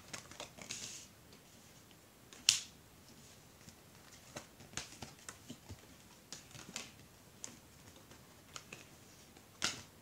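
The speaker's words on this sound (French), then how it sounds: "On va mettre 15 cartes." Tarot cards are laid out one by one, giving soft, faint slaps and light taps at irregular intervals in a quiet room, with a few sharper card snaps standing out.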